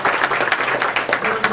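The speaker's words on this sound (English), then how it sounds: "Let's give a round of applause." Short burst of audience applause at an entrepreneurship talk, a fairly loud and close cluster of hands clapping in uneven bursts for just over a second.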